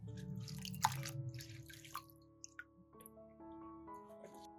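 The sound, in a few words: rinsing green onion stalks in water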